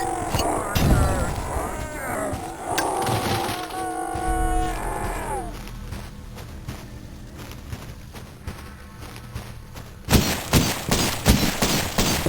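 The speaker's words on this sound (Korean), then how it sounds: "아, 총소리도 훌륭하고요." Rapid gunfire bursts and crashes from the Cultic retro, gory pixel-art FPS video game, with rattling shots over a busy game soundscape and a louder burst near the end.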